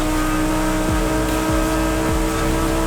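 A Lamborghini Huracan Tecnica in Forza Horizon 5 at full throttle, engine note loud and constant, with three quick upshifts that each drop the pitch before it climbs again, no talk.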